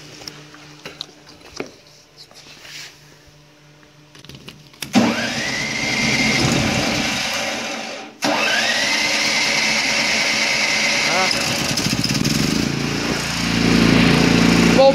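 A Ducar silenced portable generator fitted with three ordinary spark plugs starts cold from quiet surroundings around five seconds in. It then runs at a steady, loud, close drone, dips sharply for a moment near eight seconds, and carries on running.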